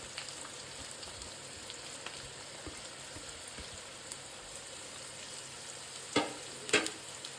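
Carrots and beans fry with onion in a pan for broken-rice upma, giving a faint, even sizzle with a few sharp clinks of stirring near the end.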